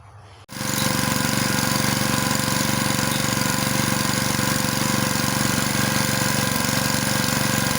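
A wood splitter engine with a newly replaced carburetor starts up and settles into a loud, steady, close idle running smoothly throughout.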